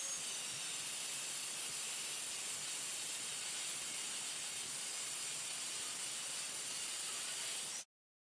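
A steel rod is cut to length in a home metalworking shop, giving off a steady, even hiss with no pauses that ends abruptly after nearly eight seconds.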